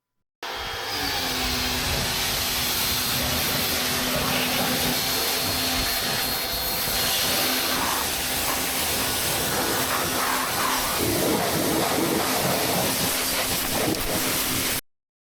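A pressure washer blasts muck off the sides and underbody of a Jeep Cherokee, a loud, continuous rushing hiss of spraying water that barely changes for the whole stretch, with no talking.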